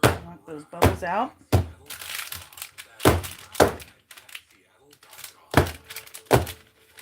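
A large cake pan full of batter is tapped down hard on a counter to knock out air bubbles, giving a series of loud, sharp thunks spaced about a second apart, with a person talking in between.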